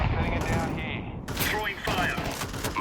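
Rapid gunfire bursts in Counter-Strike 2, dense and loud, mixed with game effects and a voice talking over it throughout.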